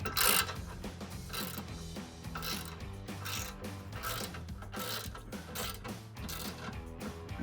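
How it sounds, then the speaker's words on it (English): A 13 mm ratchet tightens a locking nut on a Bronco rocker step, a steady stream of quick clicking pawl ratchets repeating for the whole stretch, close and fairly loud, with no talking. "take your 13 millimeter ratchet and start on the back side with the locking nut"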